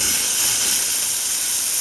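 Powerful, steady steam hiss from the steam wand of a new Vibiemme espresso machine, loud and close, continuous for the whole moment with no talk.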